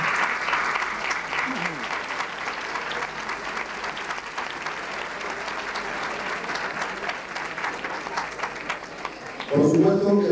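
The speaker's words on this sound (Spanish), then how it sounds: "Y un aplauso sobre todo para este personal que ha estado acompañándonos durante esta noche." Applause from an audience at an evening tribute event honouring a doctor, a dense steady clapping that holds through the clip, swelling louder near the end.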